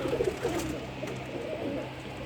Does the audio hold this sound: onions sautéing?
no